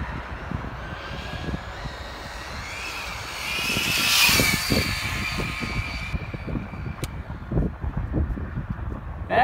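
A Traxxas Slash RC car on 4S power runs a top speed pass down a road, a high whining motor that swells as it nears, peaks, then fades with wind rumble at the microphone.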